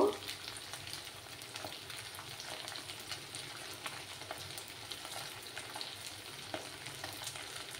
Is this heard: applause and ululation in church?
no